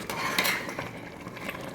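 Green onion being stirred into chicken misua with patola in a pot, soft clinks and scraping of a utensil against cookware, close and quiet, with no talk.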